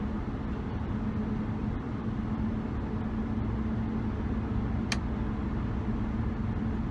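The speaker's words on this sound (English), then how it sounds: "I hear a little bit of tire noise up front." Steady road and tire hum from a 2007 Hyundai Azera on new tires cruising at about 35 mph, a constant low drone heard from inside the cabin with no talking.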